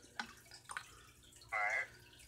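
Water trickles and splashes into a small pet container in a few short bursts, with a longer steady pour near the end, close and fairly quiet against a low background hum.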